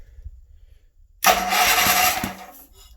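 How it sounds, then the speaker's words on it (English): Starter motor cranking a Wheel Horse garden tractor engine, a steady close whirring grind that begins abruptly after a quiet stretch and runs on for over a second before tapering. "I don't know if you can hear it, but that's starter."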